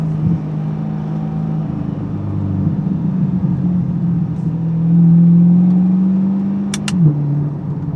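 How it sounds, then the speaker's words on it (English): Chevrolet Corvette C8 exhaust while driving, with sound deadening added to curb an engine tick: a steady low drone that swells louder around the middle as the car speeds up, then eases off, heard alone. "And I can still hear that exhaust."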